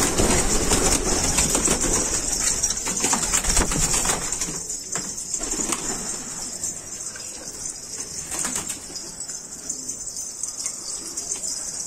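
A coop crowded with pigeons gives off a continuous murmur of low cooing and occasional wing flutters, moderately loud and close, over a constant background hiss.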